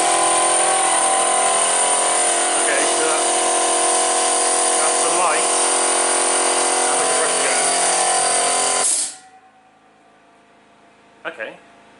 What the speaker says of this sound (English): Let's try the compressor.